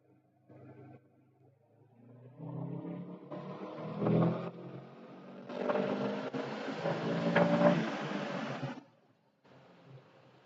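Subaru EJ20X engine in a 2008 STi, tuned on a Link G4x ECU, revving in a few rising bursts that build and fall away, heard from inside or near the car with brief quiet gaps between pulls.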